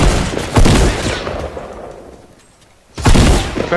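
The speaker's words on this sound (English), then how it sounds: "I'm shooting behind us" Bursts of Fortnite Battle Royale gunfire, loud and close, opening the moment, dropping into a quieter lull, then returning in a second heavy volley near the end.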